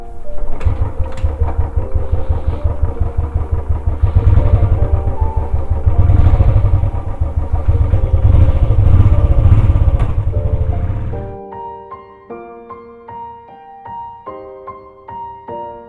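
A motorcycle rides through Pune traffic, engine thrumming loud and close with a rapid pulsing beat for about eleven seconds, then fading out as melodic tones take over.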